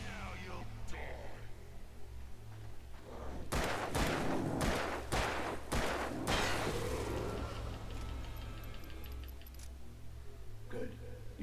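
Gunfire in the Alan Wake video game: a quick burst of several loud sharp shots in the middle, followed by metallic clinks and a low droning hum, with speech nearby.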